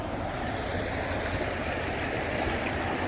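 Irrigation water rushes steadily through a farm ditch in a constant, close, broadband wash that never pauses, with no voices.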